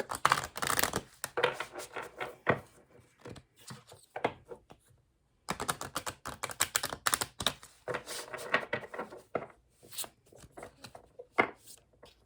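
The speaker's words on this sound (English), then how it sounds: "Gotta shuffle that deck." Close-up, rapid riffling and flicking of a tarot card deck in bursts, with a short pause midway before the shuffling clatter resumes.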